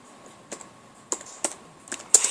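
Keys typed on a computer keyboard while writing a message, a few sparse, sharp clicks at irregular intervals with a faster burst near the end, close and fairly quiet.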